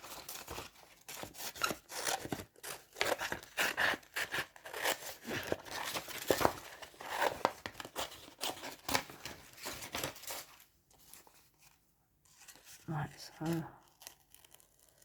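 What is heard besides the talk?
scissors cutting paper for a collage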